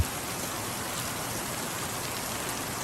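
Steady rain falls in a soft, even hiss, a continuous moderately faint patter on surfaces with no voices or other sounds.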